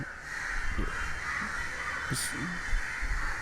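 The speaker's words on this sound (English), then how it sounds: "too many crows over here." Crows cawing over a city street in Chennai, a few rough calls at moderate distance over steady traffic and background hum.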